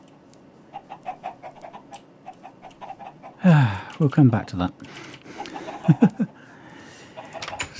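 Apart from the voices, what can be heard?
chickens clucking in Minecraft video game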